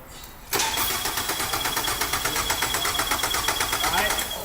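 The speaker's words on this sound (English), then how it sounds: "Go ahead and crank it, Rob." A car engine cranks on the starter during a battery-cable and alternator volt drop test, with rapid even chugging pulses starting abruptly and continuing steadily, close and loud without catching.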